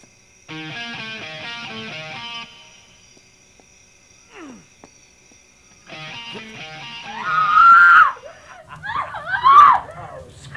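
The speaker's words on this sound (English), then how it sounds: "Scream away, love." A person screams in a fantasy horror film: a sustained wailing cry, a pause, another drawn-out wail, then sharp rising shrieks that come loud and close, with no other voices.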